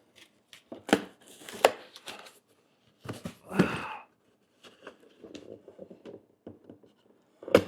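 A sharp knife slices open the plastic packaging of a large waterproof camera bag, giving scattered rustling cuts and crinkles in short bursts with quiet gaps, close and moderately loud.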